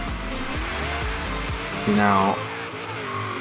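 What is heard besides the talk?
car wheelspin and tire squeal at launch in Forza Horizon 3 video game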